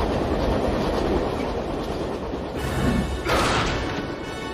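A train in a Ben 10 cartoon rumbles and clatters loudly through the whole stretch, with a brief sharp metallic crash partway through.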